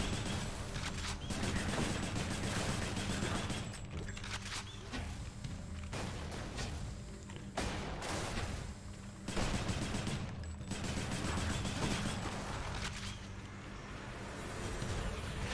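Rapid bursts of gunfire from the video game Hades rattle almost continuously, with dense volleys and brief gaps, loud and close throughout.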